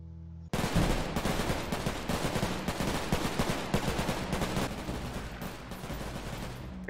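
Gunfire in the video game Garry's Mod, a loud, sustained burst of rapid automatic shots that starts abruptly and keeps a steady, dense rhythm throughout.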